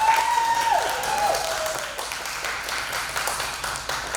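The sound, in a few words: audience applause at pinup contest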